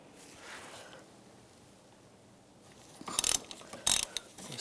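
A ratchet fitted with a 5mm hex socket loosening bolts: quiet handling at first, then two close bursts of rapid clicking ratchet strokes, loud and alone with no speech.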